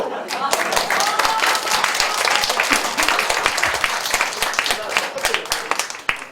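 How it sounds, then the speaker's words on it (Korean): A hall audience at a Korean question-and-answer session breaks into steady, sustained clapping that carries on for several seconds without letting up. "박수!"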